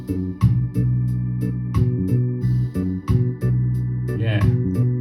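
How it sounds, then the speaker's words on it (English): Bass backing track from the iReal Pro app, with a steady walking pattern of round low notes under light, regular percussive ticks that keeps going without pause. "And now let's bring the bass to see what the bass sounds like."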